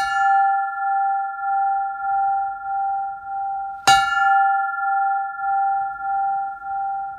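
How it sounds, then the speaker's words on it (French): Bright bell tones from an old carillon in Lorraine, France, struck by old hammers, ring steadily in a repeating pulsing pattern, with one sharp metallic clang partway through; no voices. "Voilà un joli carillon."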